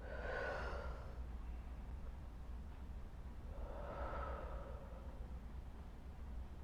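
Two slow, deep breaths are audible in a deep breathing exercise demonstration: each a long, soft airy exhale, spaced a few seconds apart over a low steady background hum, with no talking.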